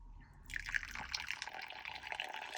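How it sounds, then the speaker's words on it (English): Hot tea poured from one cup into another, a soft, close trickle of liquid running steadily for a couple of seconds, faint and alone. "It's pouring tea from there to there."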